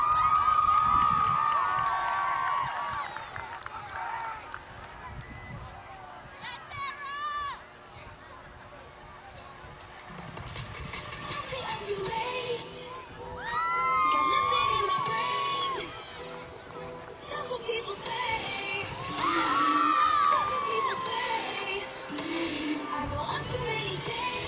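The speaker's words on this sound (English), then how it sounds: "Let's give a big round of applause" Crowd at a high school football game cheering and whooping after the North High Varsity Dance Team's routine, loud and sustained across the stands with shouts rising and falling; an announcer speaks briefly over it.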